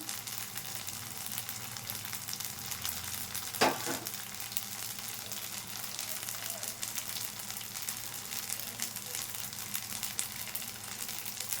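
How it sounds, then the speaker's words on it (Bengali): Thin strands of jilapi batter sizzling in hot oil, a steady soft crackle and hiss at a moderate distance, with one brief clatter partway through and no talking. "খুব সরু সরু করে আমি জিলিপিগুলো ভাজবো।"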